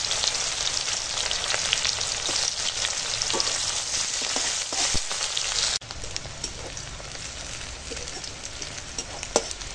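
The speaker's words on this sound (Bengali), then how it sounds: "পেঁয়াজ কুচো তেলেতেই দিয়ে দিলাম। পেঁয়াজ কুচোটা এখন ভেজে নেব" Chopped onion frying in oil for a Bengali fish curry, a steady dense sizzle with scattered crackles and stirring scrapes, loud and close throughout, with a brief dip midway.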